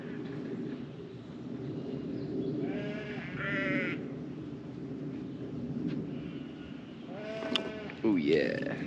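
Sheep bleat several times in a lambing shed, loud wavering cries at close range over a constant low rumble, with a person talking in between.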